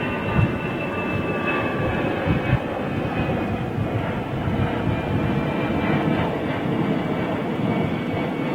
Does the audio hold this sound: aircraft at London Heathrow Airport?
yes